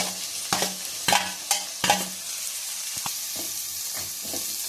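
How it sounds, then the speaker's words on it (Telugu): Ginger garlic paste frying in a pan for chicken curry, stirred with a spoon in several distinct scraping strokes over a steady close sizzle; no voices. "అల్లం వెల్లుల్లి పేస్ట్ వేసుకున్న తర్వాత పచ్చివాసన పోయేంత వరకు వేసుకోవాలి"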